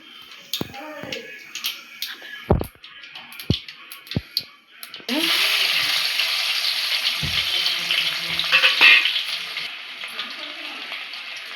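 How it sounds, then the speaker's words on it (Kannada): A few sharp scattered pops give way to a loud, steady spluttering sizzle of mustard seeds in hot oil, alongside garlic and dried chillies, that continues to the end. "ಸ್ವಲ್ಪ ಸಾಸಿವೆ ಚಿಟಪಟ ಅನ್ನಲಿ"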